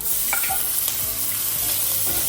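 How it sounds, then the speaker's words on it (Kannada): Black pepper, ginger and garlic sizzle and splutter in hot oil, a dense steady hiss broken by a few sharp pops and scraping stirs, close and alone. "ಚೆನ್ನಾಗಿ ಫ್ರೈ ಆಗಬೇಕು ಚಟಪಟ ಸಿಡಿಬೇಕು ಆಮೇಲಿಂದ ಕಾಳು ಮೆಣಸು ಜಿಂಜರು ಆಮೇಲಿಂದ ಬೆಳ್ಳುಳ್ಳಿ"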